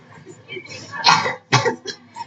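A child coughs several times in a doctor's consultation in a skit, short sharp bursts close by, with soft talk in between.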